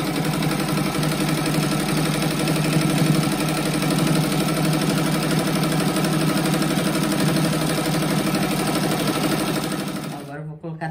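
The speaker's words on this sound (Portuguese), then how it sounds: "Agora eu já passo uma costura na volta, desde ali até aqui" Sewing machine running steadily as it stitches around the edge of a fabric rug, a loud continuous mechanical whir that holds for about ten seconds before cutting off at the end.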